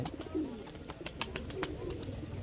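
Madrasi pigeons coo softly in a loft, low murmuring calls repeating under faint clicks and shuffles from the birds.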